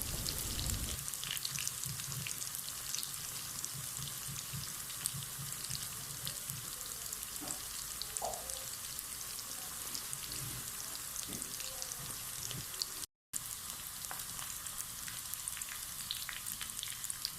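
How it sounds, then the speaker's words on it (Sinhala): Mushrooms frying in a small amount of oil in a pan, giving a continuous dense crackling sizzle like steady rain. The sound holds at an even level throughout with one brief gap of silence. "බිම්මල් ටික ටික දාලා මම මේ දාගත්ත තෙල් වලින් බිම්මල් ටික බැද ගන්නවා"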